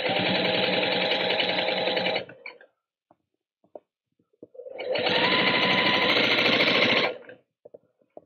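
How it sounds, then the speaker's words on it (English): A sewing machine stitches along a fabric fold on an accent strip for a small pouch, running in two steady bursts of about two seconds each, separated by a short pause with faint handling clicks. "I'm going to stitch right next to that fold all the way along my accent"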